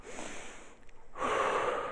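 A person demonstrates breathing: a soft inhale, a brief pause, then a louder, breathy exhale, heard close and alone.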